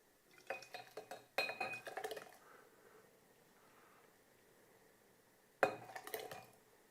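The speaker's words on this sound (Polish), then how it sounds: "porządnie mieszamy i przelewamy do słoików" Homemade pepper-tomato sauce with garlic being ladled into glass jars, heard as two bursts of clinking glass and metal against a quiet kitchen background, with a pause between them and a final sharp clink.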